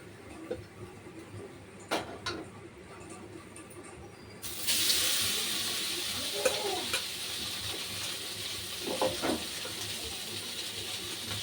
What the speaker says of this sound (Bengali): এখন আলুগুলো ভাজবো